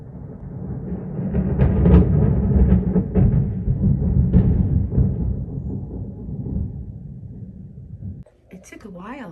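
Deep, loud rolling rumble of thunder that swells and lingers for several seconds, then fades into quieter background noise.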